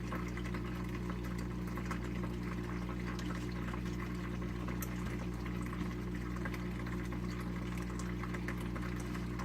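Water washes paydirt through a raised sluice box in a steady, unbroken rush, with a low mechanical hum from a pump running underneath throughout.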